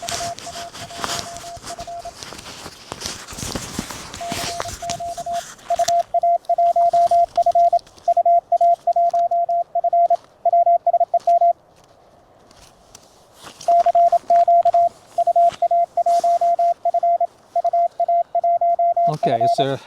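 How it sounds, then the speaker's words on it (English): Amateur shortwave receiver audio from a portable Elecraft KX2: a steady on-off Morse tone keying in rapid bursts over hiss and crackling static, with brief noisy tuning sweeps. "I can put my microphone down by the radio so you can hear the radio better."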